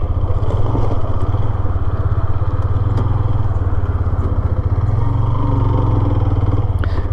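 A motorcycle engine runs close by in a steady, continuous drone with a rough mechanical clatter, holding an even loudness for several seconds with no talking.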